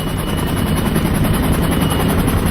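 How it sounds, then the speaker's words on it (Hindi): Black Hawk helicopters in flight give a loud, close, continuous rotor thrum with a rapid regular chop, steady and unbroken with no voices. "2 ब्लैक हॉक हेलीकॉप्टर्स ने जलालाबाद हवाई ठिकाने से एबटाबाद अहाते के लिए उड़ान भरी"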